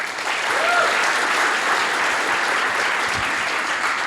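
Steady, loud applause from a sizable crowd at a startup pitch event, continuous clapping filling the whole stretch without letting up.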